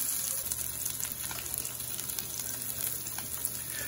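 A ribeye steak sizzles on a Blackstone 17-inch E-Series griddle, giving a steady, close, continuous crackling hiss with no talking.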